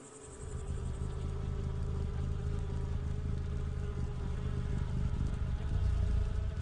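Bees buzzing at a hive entrance, where guard bees defend the colony, make a dense, steady hum that carries on without a break. A deeper low rumble runs underneath the whole time.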